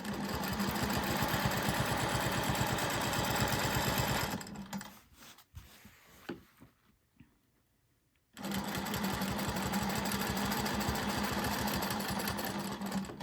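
A sewing machine stitches a practice piece with a rapid, even mechanical chatter, close and loud. It stops for about four seconds, with a few small clicks and handling noises during the pause, then resumes at the same steady pace.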